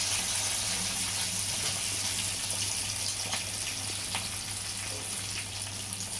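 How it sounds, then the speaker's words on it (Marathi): Chillies and garlic fry in hot oil for a Maharashtrian moong dal varan, a close, steady sizzle with a faint crackle that keeps going throughout, no voices over it. "मिरची, लसूण हे संपूर्ण आपण जरा लालसर याच्यावर करत आहोत"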